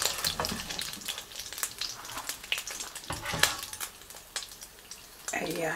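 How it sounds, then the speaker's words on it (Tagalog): Sautéing in a hot pan for a homemade dish, a steady broadband sizzle with scraping stir clatter throughout, rising louder near the end as more goes into the pan. "Mag-start na tayong mag-gisa."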